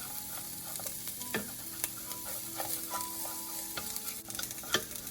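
Minced shallots and garlic fry in a pan of hot cooking oil for fried rice, with a steady low sizzle broken by soft stirring clicks and scrapes from a utensil.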